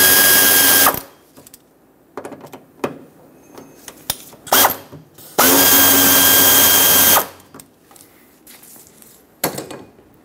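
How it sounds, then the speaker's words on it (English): A power tool with a 6 mm socket loosens the filler neck hose clamps on a Ford E-350 Super Duty with a 5.4L V8, giving two loud, sustained whirring runs with short clicks and bursts between them. "Use a 6 millimeter socket to loosen these up."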